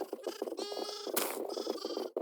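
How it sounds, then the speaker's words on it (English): Sheep in the Minecraft video game bleat several times in quick succession, each cry a short, wavering, nasal call at moderate loudness, with no talking over them. "on day 13 I got some sheep"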